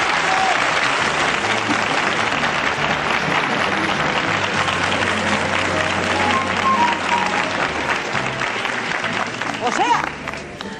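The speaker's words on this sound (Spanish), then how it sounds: "que hay que ver cómo los aplauden" A studio audience at a 1982 Spanish television game show gives loud, sustained applause for the contestants, a dense wash of clapping that holds steady and thins slightly near the end.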